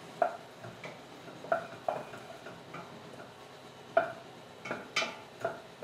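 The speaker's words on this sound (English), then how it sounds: "And then we just mix this all together" Lazy cabbage pierogi being stirred together in a pot, with a run of light, irregular scrapes and clicks of a utensil against the pot, fairly close and soft, with no talking.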